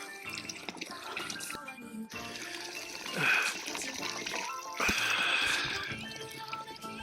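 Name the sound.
water filling a bottle from a mountain stream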